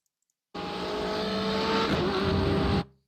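A 2020 BMW M8 race car (IMSA class) in the iRacing simulator on the Catalunya Historic circuit accelerates: a loud, steady engine roar cuts in abruptly, holds for over two seconds and then stops sharply, with no talking.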